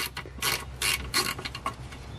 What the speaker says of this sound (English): If you push up on the ratchet while you're spinning on it, it'll usually unthread them.